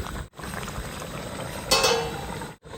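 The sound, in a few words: chicken masala gravy simmering in a covered pan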